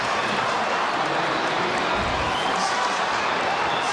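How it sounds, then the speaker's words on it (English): A stadium crowd at an Australian football match, Gold Coast Suns playing a close game, sends up a steady, dense roar of cheering that fills the whole stretch without pause. "Crowd involved now."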